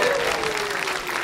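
A juggling show audience claps and cheers after a trick, a dense burst of close applause with crowd noise.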